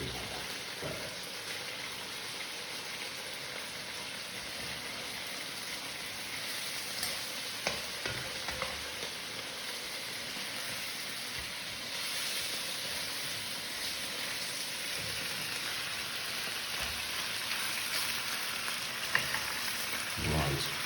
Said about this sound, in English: add it to the arroz, make sure the temperature's up, and just keep it cooking like that